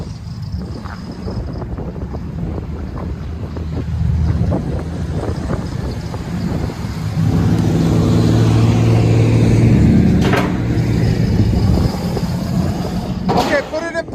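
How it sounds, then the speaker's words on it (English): A 2011 Chevy Avalanche 5.3L V8 with a Carven TR-series exhaust revs up in park, a deep low rumble swelling and easing over steady wind noise, with people talking nearby. "put it in park, give it gas again. That's so deep."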